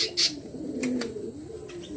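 A male budgerigar held in the hand gives short chirps and warbling chatter at close range, with a brief rustle partway through and no talking.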